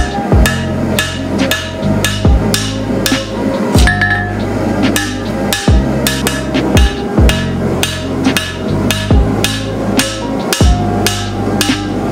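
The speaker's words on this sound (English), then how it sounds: "So I'm just going to forge my bevels normally until here" A hammer pounds a sword blade on an anvil as the bevels are forged, giving a steady run of loud ringing metallic strikes with a bright clink on each blow over about twelve seconds.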